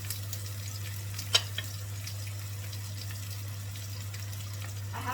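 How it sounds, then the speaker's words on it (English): Quiet, continuous sizzling of zucchini slices frying in a pan, with a faint steady hum underneath and an occasional soft clink. "Just frying off my zucchinis for a couple of minutes on each side."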